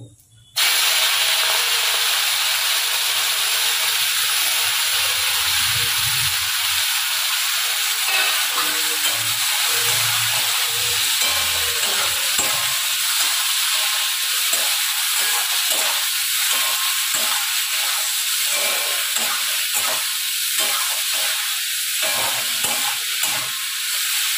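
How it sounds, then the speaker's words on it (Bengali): Long beans tipped into hot oil seasoned with five-spice erupt in a sudden loud hiss, then settle into a continuous close sizzle with occasional stirring clatter throughout. "চলুন এবার বরবটিগুলো তেলে দিয়ে দেবো।"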